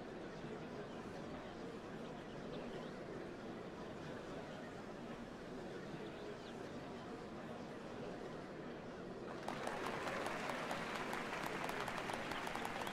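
Crowd applause in the video game Final Fantasy XIV, a dense steady wash of clapping that grows noticeably louder and brighter near the end.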